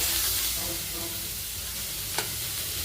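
Tomatoes go into sizzling ginger-garlic paste in a pan for a broken-egg curry, giving a steady, fairly quiet frying hiss with soft stirring scrapes and one brief sharp click near the end.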